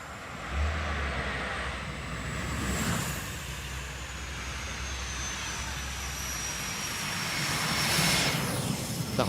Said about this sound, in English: that very unique sound of the gas turbine engine